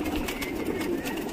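Pet pigeons coo in a soft, low, steady murmur, faint and close, with no other sounds standing out.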